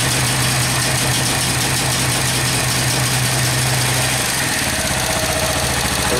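A Suzuki TU 250 X motorcycle engine idling with a fault that stops it taking throttle, a loud, close, steady low thrum that dips and shifts pitch near the end, with no talk.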